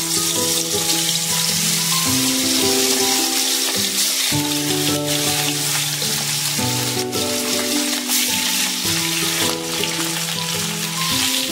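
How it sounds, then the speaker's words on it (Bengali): Hilsa fish fry in hot mustard oil in a kadai, giving a loud, steady crackling sizzle that runs throughout with brief bubbling pops and no voices. "তেলটা গরম হয়ে গিয়েছে, এবার এক এক করে মাছগুলো ছেড়ে দেবো"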